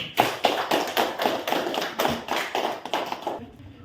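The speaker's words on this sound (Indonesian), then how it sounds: "Beri tepuk tangan untuk temannya dari kelompok 1." Classroom students clap for a classmate group in a few loose, fairly quiet bursts of rhythmic clapping that thin out and stop near the end.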